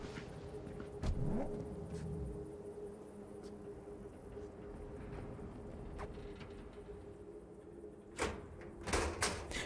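A car door opens and thuds shut as the player's character steps out of a vehicle in the video game Cyberpunk 2077. A steady engine idle and background hum run throughout, and a few sharp clicks and clunks come near the end.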